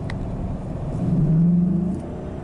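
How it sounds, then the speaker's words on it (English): A car engine revs up sharply as a slipping GM automatic transmission flares in fourth gear, a rising whine that swells briefly and falls back, close and fairly loud with no talking. "hopefully you could hear how the motor revved up"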